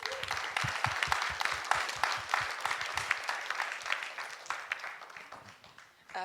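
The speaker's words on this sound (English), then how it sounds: "I'd like to welcome her with a big round of applause." An audience applauds to welcome a speaker at a talk, a moderate patter of many hands with some sharper claps that gradually thins and fades toward the end.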